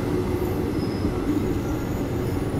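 Passenger train on the Hampi to Bangalore route rumbling along at steady speed, a continuous loud rolling clatter of wheels and carriage noise with no talk.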